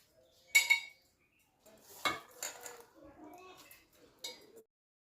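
Filling a pressure cooker with moong lentils and potato: a few sharp metal clinks and scrapes of utensils against the pot, spaced out in short bursts with quiet gaps between.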